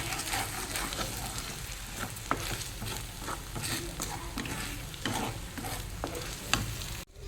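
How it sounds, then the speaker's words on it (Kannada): Potato omelette frying in a pan without oil, a steady close sizzle with soft stirring scrapes and a few sharp clicks, continuous and fairly loud throughout. "ಫ್ರೈ ಆಯ್ತಿದೆ ಇವಾಗ ಚೆಂದಾಗಿ."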